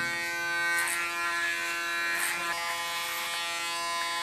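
An electric hair clipper buzzing close by with a steady tonal hum, its pitch and texture shifting slightly as it moves through hair during a short summer haircut.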